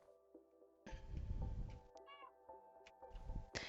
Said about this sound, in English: And my cat is being a cat